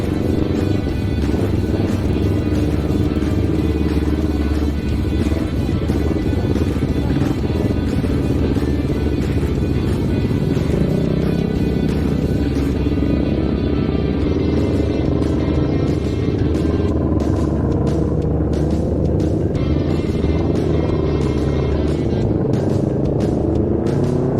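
Motorcycles ride on a touring trip from Bira back to Makassar, with a steady, loud engine rumble and road and wind noise that carry unbroken throughout and never let up.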